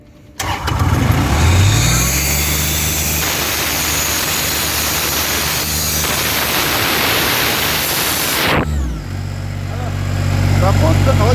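A car engine cranks and catches, then runs loud and steady for several seconds close by before cutting off abruptly, with a faint hiss afterward.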